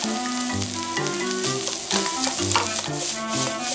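Onion and fried rice ingredients hit a hot pan with a loud, steady sizzle and some stirring, close up, while background music plays and no one speaks.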